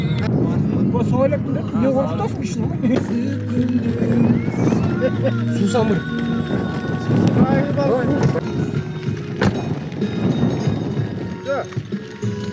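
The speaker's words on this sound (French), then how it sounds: "Attends, je voulais fuir le cheval." Horse hooves clip-clop along a road in Kyrgyzstan, loud and close with a busy outdoor bustle, while people talk over the sound throughout.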